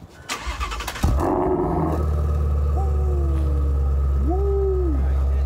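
A car engine cranks and fires up with a loud roar, then settles into a steady, deep idle with occasional rising revs.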